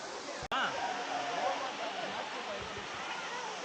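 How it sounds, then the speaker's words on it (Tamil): The Kovai Kutralam waterfall as a steady, dense rush of falling water, with people talking close by over the roar. "ஒரு வழியாக ஃபால்ஸுக்கு நடந்து வந்துட்டோம்."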